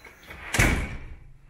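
A tall solid alder front door of a ranch home opens with a single solid thump and a short rattle, close and fairly loud, then the sound fades.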